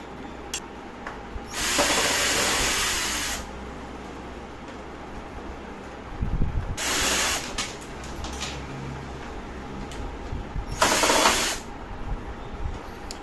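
A cordless drill with a bent attachment backs screws out in three separate whirring bursts of a couple of seconds each, with small clicks and handling noises between them, close and moderately loud.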